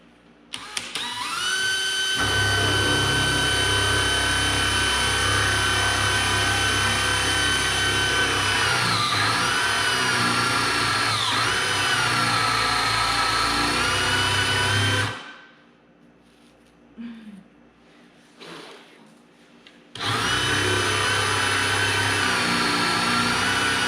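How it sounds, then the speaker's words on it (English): A power drill boring holes in a wooden live-edge vanity top, a loud steady whine running continuously with slight pitch dips, cutting off for a few seconds of near silence before starting up again. "Okay, time to drill the holes."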